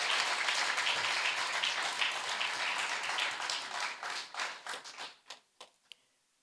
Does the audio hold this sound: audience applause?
yes